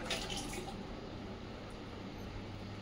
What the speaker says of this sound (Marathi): तर ना आपण ह्याच्यात पाणी भरलो. आपण थोडं भरू